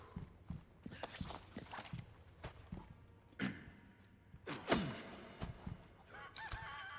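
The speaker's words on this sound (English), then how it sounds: "There's chickens here." Chickens clucking and a rooster crowing in the Resident Evil 4 Remake game, scattered bird calls and footsteps-like taps at moderate level with a louder squawk near the middle, no talk.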